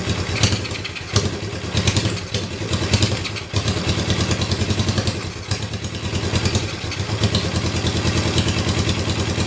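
A Honda CB350 cafe racer motorcycle engine runs close and loud with a rough, uneven idle. It gets short blips of throttle, and mechanical clatter comes through.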